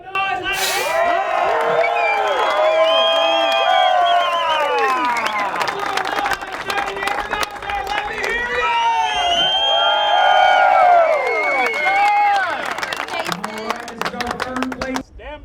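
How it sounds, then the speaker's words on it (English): A large outdoor crowd cheers at the RMAC 2022 airgun event, with shouting, whoops and loud sustained cheering rising and falling in waves throughout. "The heat, the cheering and the emotions are running high."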